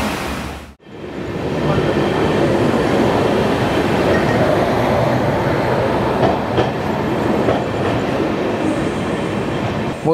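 The 12510 Guwahati–Bangalore Superfast Express passenger train rumbles past close by in a loud, steady roar of wheels and carriages, with a sharp dip near the start before the continuous rolling noise fills the rest.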